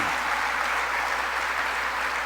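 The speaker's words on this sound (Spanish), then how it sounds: "dele palmas al Señor" A church congregation claps together in a dense, continuous round of applause, loud and even throughout with no voices breaking through.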